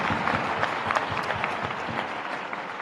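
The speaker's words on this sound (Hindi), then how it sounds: "तो ताली वाली तो बजाओ" A youth audience at a chief minister's gathering in Bhopal claps steadily in a dense, sustained round of applause, with faint crowd murmur underneath.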